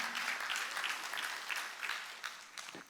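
A church congregation applauding during a Wednesday worship service, a fairly faint, distant wash of clapping that pulses in waves.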